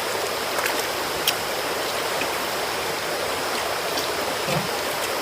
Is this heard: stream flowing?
yes